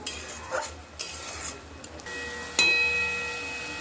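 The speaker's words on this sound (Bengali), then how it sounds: "মশলাটা ভালো করে কষিয়ে নিই।" Masala with onion, garlic and salt is stirred and fried in a pan: soft scraping strokes, then a sharp metallic clink that leaves a ringing tone over a low sizzle.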